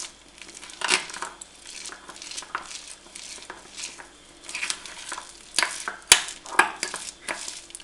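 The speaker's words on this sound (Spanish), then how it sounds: "Y volvemos a mezclar." Food coloring stirred into a mixture for Easter chick decorations, heard as irregular soft scraping and swishing strokes close by, with a sharp clack near the end and no voices.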